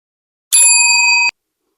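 A single bright notification bell ding rings out loud and clear, holding its metallic tone for under a second before cutting off cleanly, with nothing else around it.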